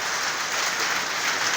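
Steady rain falls outdoors near a Grand Am project car undergoing a 3800 engine swap, a dense, continuous hiss with no breaks and no voices.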